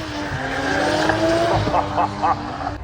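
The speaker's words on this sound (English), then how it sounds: "Here comes the green BMW." A green BMW drifting at Castle Combe circuit, engine roaring steadily with tyre squeal rising and falling as it slides past, loud and continuous throughout.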